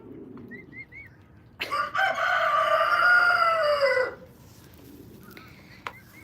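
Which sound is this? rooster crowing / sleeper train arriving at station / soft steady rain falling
rooster crowing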